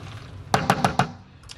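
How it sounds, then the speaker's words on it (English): Canned diced tomatoes poured from the can into a pot land in four quick wet plops close up, followed by a faint fifth splat. "so you're gonna pour your diced tomatoes in there"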